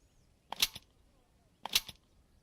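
Two sharp video-game gunshots about a second apart, each a crisp crack with a short tail, standing out loudly over a quiet background.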